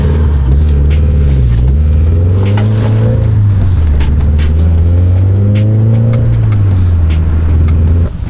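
Subaru BRZ fitted with Tomei UEL headers and an HKS exhaust drones loudly and steadily while driving, a deep booming tone rising and falling slightly with the revs, close up with no talk.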